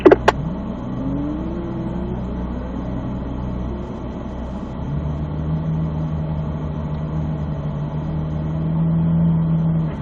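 A Corvette Z06 engine on an autocross run gives a loud, close, steady mid-pitched drone, a brief tire chirp at the start, then the note climbs and swells as the car accelerates.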